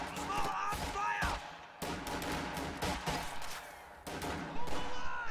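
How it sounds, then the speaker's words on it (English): Bursts of small arms fire in a war strategy video game, rapid overlapping gunshots crackling in clusters across several seconds, fairly loud, with a voice calling out over the battle. "Contact! Small arms fire!"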